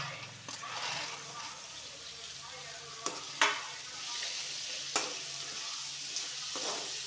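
Vegetables with mint, coriander, carrot and sprouted green gram and chickpeas are sautéed in a pan for a semiya egg biryani, sizzling steadily with a few sharp spatula clacks against the pan.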